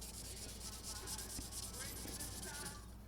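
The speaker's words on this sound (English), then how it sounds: "I'll go with some 220 grit sandpaper and then 320" Sandpaper of 220 and then 320 grit rubbing over an Ibanez classical guitar neck, a steady close scratchy swish that runs continuously without pause.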